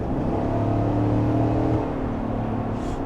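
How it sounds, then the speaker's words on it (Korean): A Chevrolet Tahoe full-size body-on-frame SUV with a 6.2-litre 420-horsepower V8 and 10-speed transmission accelerates, its deep engine drone loud and steady as the revs climb, then easing slightly. "자, 가속 페달을 밟아볼게요."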